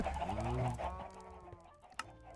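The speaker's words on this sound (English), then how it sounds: "these chickens are actually frustrating" Chickens in a video game cluck in a soft, fairly faint run of short calls, followed by a brief sharp click near the end.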